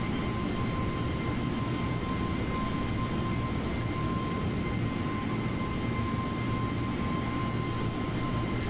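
Inside a British Airways Airbus A320 flying from London Heathrow to Lyon, the cabin is filled with a steady, unbroken roar of engine and airflow noise, plus a faint constant tonal hum.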